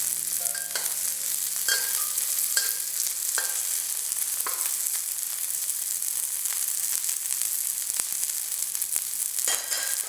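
Garlic, the white parts of spring onions and carrots stir-fried in a pan for a Chinese-style oyster mushroom dish, a steady close sizzle with scattered scraping and tossing clicks, no talking.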